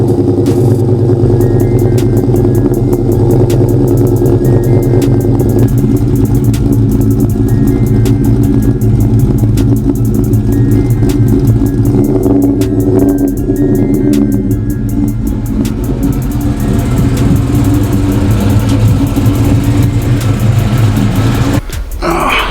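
A dirty car's engine starts lukewarm and idles with a deep, steady rumble and periodic revs, loud and close, continuing for over twenty seconds before cutting off abruptly.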